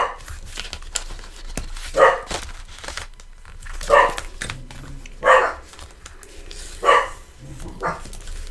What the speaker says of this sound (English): Or the dogs are playing up just for fun.